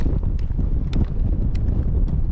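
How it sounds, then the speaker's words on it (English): Strong, gusty wind on a cold Lake District summit buffets the microphone with a loud, rough, low roar that stays constant throughout, with no one speaking. "I don't know where this wind's come from either. Definitely a bit wild up here."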